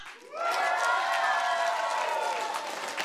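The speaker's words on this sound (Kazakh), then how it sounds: "Сборный құдалар шапалақ!" Guests at a wedding celebration break into applause, a dense continuous wash of clapping from a crowd that swells in quickly and holds steady, with cheering mixed in.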